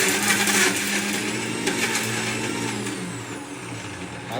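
A new mixer grinder whirs loudly and steadily throughout, with a high-pitched motor whine and grinding noise, no voices.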